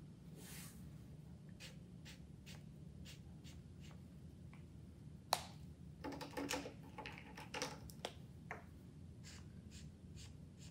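Markers colour boldly on a paper towel for a kids' growing rainbow craft, making soft, close scratchy strokes in short bursts against a quiet hiss, busier in the middle.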